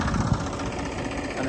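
A tractor engine rumbles steadily close by after the load is emptied, a low continuous chugging with a faint knock near the start.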